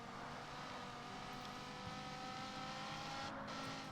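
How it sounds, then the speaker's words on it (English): An RSX / Integra in the CarX Street racing game passes on a mountain touge road, its engine a steady, fairly loud drone with a rising tone and a faint tire squeal near the end, no voices. "Getting passed by an RSX / Integra."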